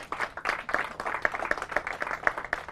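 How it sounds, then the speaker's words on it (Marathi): Audience applause for a quiz team at a quiz show finals: a steady burst of many hands clapping close by, dense and even throughout, with no talk over it. "पण त्यांच्यासाठी पण टाळ्या."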